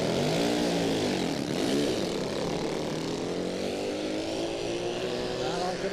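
A nitro-fuelled drag racing motorcycle makes its first run at Dragstalgia, a loud, continuous engine roar with a rising and sweeping pitch that holds steady and close for the whole stretch.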